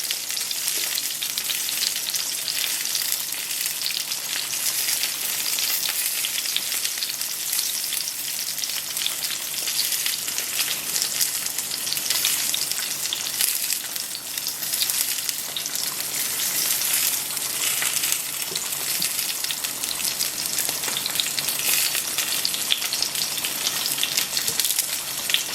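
Eggplant frying in a pot of Iranian meat and eggplant stew (khoresh bademjan), a steady, close, dense sizzle with soft stirring throughout and no talk.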